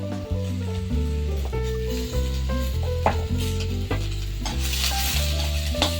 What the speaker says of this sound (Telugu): ఇవన్నీ ఇందులోనే వేసి వేయించుకోండి